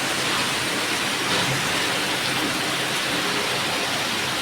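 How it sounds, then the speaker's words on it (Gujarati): Steady rain falls outside a home during a sudden shower, a continuous, even hiss with no breaks and no voices. "પાછો વરસાદ અત્યારે આવો ચાલુ થયો છે"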